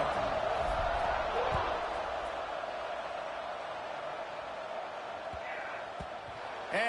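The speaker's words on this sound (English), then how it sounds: "this crowd is buzzing after that last score" Football stadium crowd, a dense, steady buzz of many voices filling the space at moderate level, easing slightly through the middle, with a commentator talking over it.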